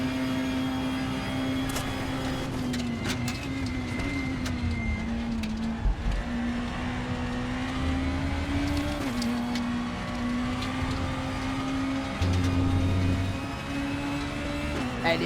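Race cars in the RaceRoom racing game: a steady, close engine drone that rises and dips slightly in pitch as the car accelerates and brakes, with faint mechanical clicks and occasional louder swells.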